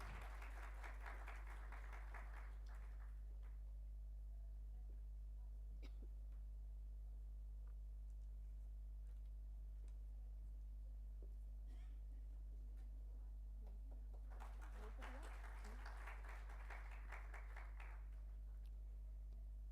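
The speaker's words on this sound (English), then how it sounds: "Can we give a huge round of applause, ladies and gentlemen?" Applause from a crowd at a formal government event for International Coffee Day, in two bursts a few seconds each, one at the start and one near the end, with a steady low hum and quiet room noise in between.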